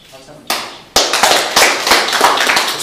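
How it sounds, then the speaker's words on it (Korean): A room full of visitors at a painter's 37th solo exhibition in an Insadong gallery breaks into dense, lively applause after a brief quiet start, the clapping swelling and carrying on steadily with some voices mixed in. "박수 한번"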